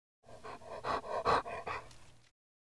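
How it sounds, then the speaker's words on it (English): A really big dog panting close by, a run of quick, breathy huffs rising in strength toward the middle, then tapering off before silence. "A really big dog."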